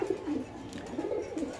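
Several pigeons coo in low, throaty rolling phrases from cages at a busy pigeon market, the calls overlapping steadily and fairly close.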